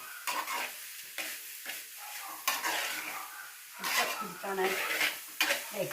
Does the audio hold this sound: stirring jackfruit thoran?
yes